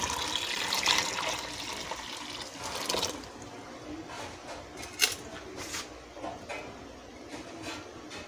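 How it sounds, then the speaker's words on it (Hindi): Hot water poured into homemade mango juice in a pot, a soft splashing pour for about three seconds that fades into faint trickles and drips. "अब ये गर्म पानी इसमें शामिल करेंगे।"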